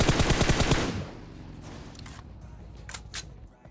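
Gunfire in the battle royale game PUBG Mobile: a dense burst of rapid automatic shots for the first second, then fainter distant shots and clatter over a low background rumble.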